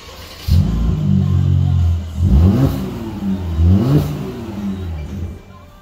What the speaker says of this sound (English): so you can try to hear the sound of the engine